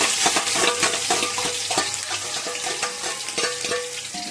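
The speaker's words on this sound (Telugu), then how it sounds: "ఇవి కొంచెం హీట్ అయిన తర్వాత ఉల్లిపాయలు అనేవి వేసుకోవాలి" Onions fry in hot oil in a pan for mutton biryani, a steady loud sizzle broken by stirring clatter, close and continuous with no talking.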